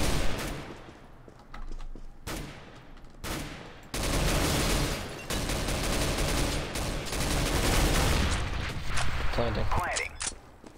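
Rattling bursts of simulated gunfire from a thrown decoy grenade during a competitive CS:GO match on the Resort map, dense and continuous among other game sounds, with players talking over it.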